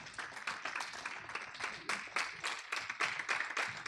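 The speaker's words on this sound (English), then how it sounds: "Let's give God a hand clap." Members of a church congregation clap their hands during a sermon, a quiet, fairly distant run of uneven claps with no one speaking over it.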